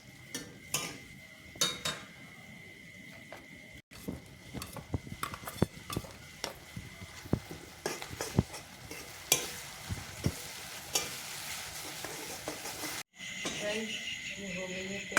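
Onions with masala frying in a kadai, a continuous sizzle broken by repeated scraping and clinking strokes of a spoon against the metal pan, close and fairly loud.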